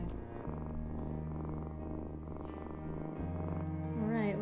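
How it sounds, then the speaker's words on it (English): A rescue kitten purring, a low steady rumbling purr running close and continuous, with a brief soft vocal sound near the end. "can you guys hear her purring?"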